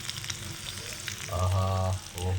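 Dried fish sizzles and crackles in a hot frying pan, a steady close frying hiss with occasional stirring sounds and no talk.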